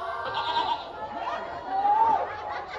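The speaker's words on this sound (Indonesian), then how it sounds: "Seta, kok sing nyauri wedhus e" A goat bleats near a livestock pen at an outdoor campursari performance in Tulungagung, giving wavering, nasal cries that rise twice over a murmur of background voices and crowd noise.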